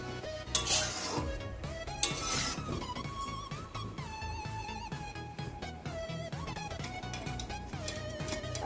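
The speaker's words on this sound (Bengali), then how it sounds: "আলু দিয়ে ডিমের ঝালটা ঢেলে নিচ্ছি" Thick egg and potato curry being poured into a serving dish: repeated scraping and clinking of a utensil against metal, playing under loud continuous background music.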